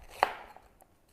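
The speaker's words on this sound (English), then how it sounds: "So we start with the capsicum. We want 1 cup of diced capsicum." A knife strikes a cutting board once, sharp and close, while dicing green capsicum, followed by faint softer taps in a quiet kitchen.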